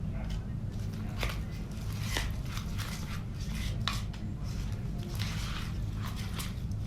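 A spoon stirring a thick, slightly clumpy puffy paint mixture as water is worked in, making continuous wet squishing and soft scraping sounds, close up with no talking.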